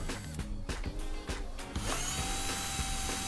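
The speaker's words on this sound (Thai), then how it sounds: "วิธีที่ 2 ใช้สว่านปั่น" An electric drill spins to mix PU foam, whirring with short bursts and stops before running continuously at high speed, loud and close.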